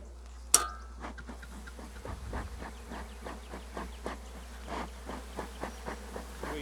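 Honey bees buzz around an open backyard hive full of brood, a continuous insect drone with repeated pulsing fly-bys passing near, after one sharp click at the start.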